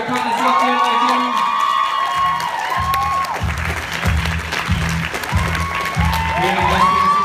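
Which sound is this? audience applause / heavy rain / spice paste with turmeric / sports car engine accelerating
audience applause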